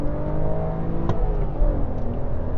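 BMW Z4 E89 roadster engine revving hard under acceleration, a continuous rising drone heard from inside the car, loud and steady with a brief click partway through.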